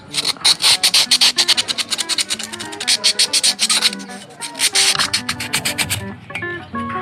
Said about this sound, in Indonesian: harus diamplas sedikit